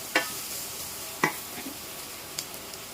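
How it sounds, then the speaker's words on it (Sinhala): Chicken devilled with soy sauce is stirred in a pan, three quick scraping strokes of the spoon over a low, continuous sizzle, fairly faint and with no voices. "දැන් හොඳට මේ ටික කලවම් කරගන්න."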